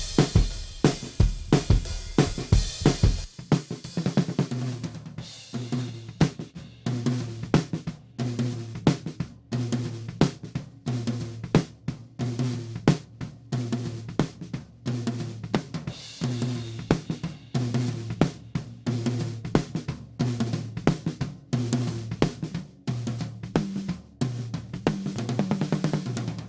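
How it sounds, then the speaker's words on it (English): Drum mix in which the snare drum runs through a DBX160 compressor, with a steady groove of punchy, evenly controlled hits repeating over nearly half a minute after a brief noisy opening, no talking. "listen to the DBX160 on the snare drum"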